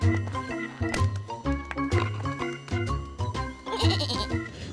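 A toy goat bleats in a loud, wavering, repeated electronic bleat that runs almost continuously and ends with a higher, raspier cry.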